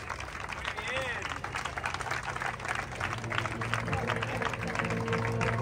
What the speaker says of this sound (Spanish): un gran aplauso para estos, estos dos campeones.